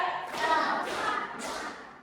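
A group of people in a teaching session claps in unison three times, evenly spaced, each a loud sharp slap of many hands that rings briefly before the next.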